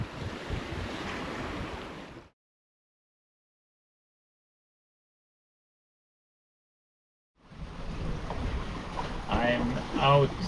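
Open sea between Sardinia and Spain heard from a solo sailboat under wind-vane steering: wind and water rushing steadily around the hull, broken by several seconds of total silence before the wash returns.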